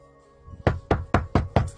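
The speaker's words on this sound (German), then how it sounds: "Wie ist dieses Klopfen jetzt plötzlich so direkt, so präsent" Knocking on a door in a supposed haunted setting: five loud, sharp raps in a steady rhythm after a quiet start, close and distinct with no talk over them.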